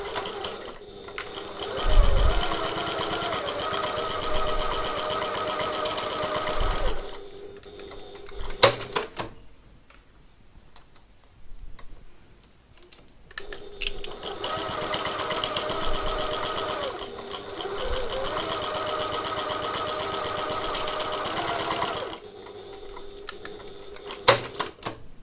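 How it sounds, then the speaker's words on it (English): Sewing machine stitching a seam through several layers of a piped pocket tote bag and its lining, running in two long steady bursts with a quiet pause between them. "So now through all of these layers, I'm going to sew."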